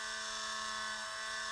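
A small drill bit grinds slowly into a plastic toy figure, giving a steady, continuous whine with a low tonal hum that holds unbroken throughout, close and moderately loud.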